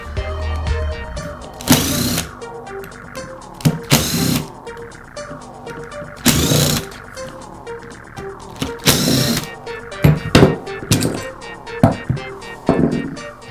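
Gearbox housing screws being removed from a Makita grinder with a power driver, heard as several short loud whirring bursts separated by pauses with faint clicks and handling noise, up close and without speech.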